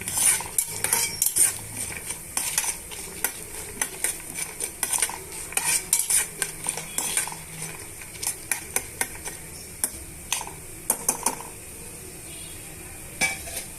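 Peanuts and tempering spices frying in a pan for an ivy gourd dish, with frequent sharp metal spoon clinks and scrapes over a light sizzle, close and irregular, with no talking.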